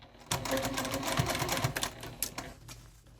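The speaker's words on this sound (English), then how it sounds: "sew around that edge with our 1/4 inch seam allowance" Sewing machine stitching around the edge of Christmas stocking layers, a rapid steady mechanical whirr with needle clatter that runs for a couple of seconds and then slows, close by.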